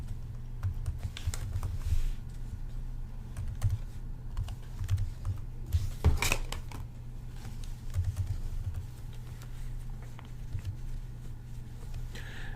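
Credit card details typed on a computer keyboard: rapid, irregular key clicks in short runs, close and moderately loud over a low steady hum, with one louder clatter midway.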